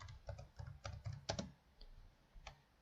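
Keys on a computer keyboard clatter in a short, uneven burst of soft taps, close but quiet, with brief pauses between clusters.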